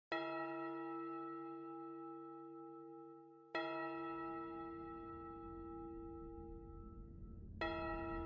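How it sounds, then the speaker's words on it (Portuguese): Deep, resonant bell strikes ring out for New Year in Times Square, three heavy tolls spaced a few seconds apart, each with a long, shimmering decay. "Ouvem as 12 badaladas em Times Square."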